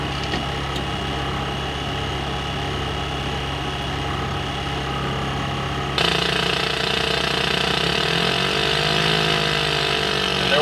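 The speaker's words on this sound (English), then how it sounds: "we're going to slowly move the mixture out of idle cutoff until the engine just starts" A simulated piston aircraft engine on the ATC-810 IFR flight simulator drones steadily as the starter is held, then catches about halfway through with a louder, rougher, continuous running roar and a shifting pitch.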